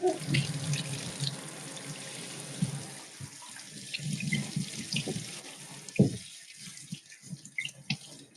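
Shower water runs with a steady splashing hiss that shifts and dips in spots, as if the spray hits a body or the floor, and then turns uneven and spattery near the end.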